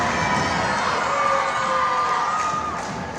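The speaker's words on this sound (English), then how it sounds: "the crowd was cheering for both teams and all players" A crowd cheers at a unified basketball game, with a dense, sustained wash of shouting and excited voices, including children's, holding steady and fading slightly at the end.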